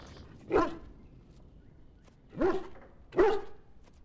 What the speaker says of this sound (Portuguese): Meu cachorro, estressadão.